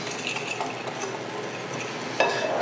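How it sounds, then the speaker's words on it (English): Dry cornbread ingredients are whisked together in a bowl, giving a steady, close scraping and stirring with light clinks of the whisk against the sides and a slightly louder knock near the end. "Get it all nice and mixed up."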